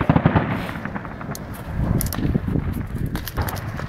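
Loud New Year's fireworks in Harderwijk, Netherlands, crackling and popping in rapid irregular bursts, close and continuous, with sharp bangs cutting through.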